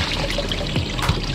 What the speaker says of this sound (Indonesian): Kita buang lagi airnya.